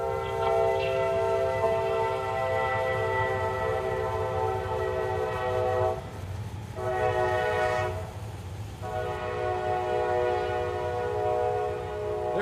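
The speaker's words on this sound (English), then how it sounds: "there's always a train in downtown Seneca" A train in downtown Seneca sounds its horn in long sustained blasts with brief gaps between them, over a steady rumble of rail cars rolling past nearby.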